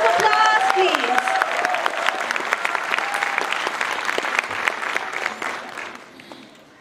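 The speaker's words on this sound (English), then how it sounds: "A big round of applause, please." Crowd applause and cheering at a school battle of the bands final at a state youth festival, a dense, loud round of clapping with a few voices over it, tapering off near the end.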